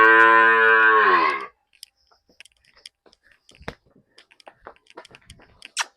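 A young female buffalo or cow (vehri) offered for sale at a Punjab farm moos once, loud and close, for over a second, followed by quiet clicks and rustling.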